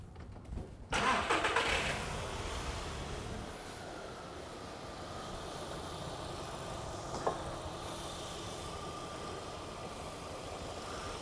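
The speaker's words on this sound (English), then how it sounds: "start the car up." Car engine cranking and catching, a brief loud starter burst, then a steady close idle that runs evenly, with one small blip midway.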